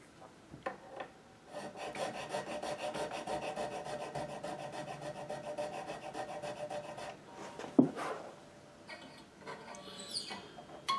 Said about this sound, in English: all of the string slots are adjusted on the nut